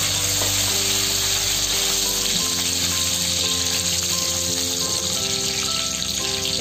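Whole spices sizzle in hot oil for chicken sukka, a loud, close, steady crackling hiss that runs the whole time, with no talking.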